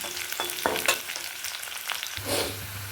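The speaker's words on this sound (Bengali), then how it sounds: "ডাঁটাগুলোকে একটু ভেজে নেব" Tender vegetable stalks frying in a pan, a close, steady sizzle broken by stirring scrapes and clacks, with a hum entering near the end; no speech.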